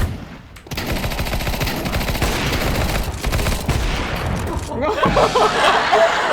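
Dense, rapid sniper rifle gunfire in Counter-Strike, bursts of shots crackling continuously with a voice talking over part of it.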